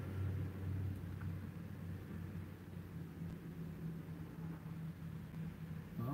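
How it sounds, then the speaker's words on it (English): A distant truck passes as a faint, low rumble that holds steady in the background for several seconds, with no voices over it. "I guess that's that truck I heard."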